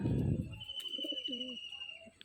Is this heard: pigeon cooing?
yes